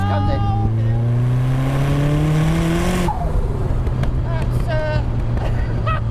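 A turbocharged Mazda MX5 accelerates hard in third gear, its engine note climbing steadily before a sharp drop at the shift, then a loud, steady drone carries on, heard from inside the car with a voice talking over it.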